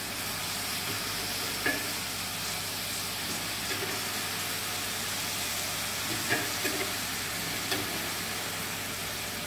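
Prunes being rolled through hot caramel in a pan, with a steady low sizzle and faint stirring scrapes throughout.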